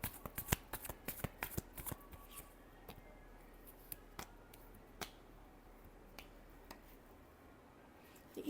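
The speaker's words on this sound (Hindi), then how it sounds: "last shuffle" Tarot cards being shuffled by hand, a quick burst of crisp riffling flicks at first, then sparser soft taps and slides, close and quiet with no talk.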